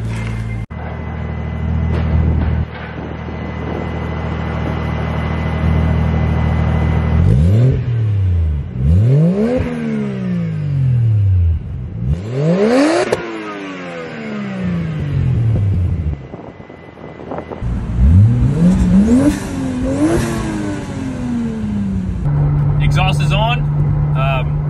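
Toyota JZX100 with an HKS Hi-Power exhaust idles, then revs repeatedly in rising and falling sweeps before pulling away, loud and close, with brief talk mixed in.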